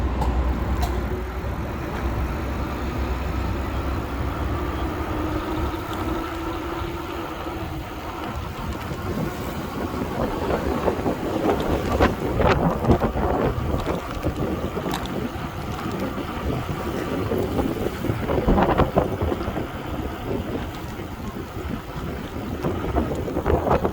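A Velotric Discover 1 e-bike ridden at full throttle in its highest pedal-assist setting, carrying a steady rushing drone of motor, tires and heavy wind buffeting across the whole stretch, with no talk over it.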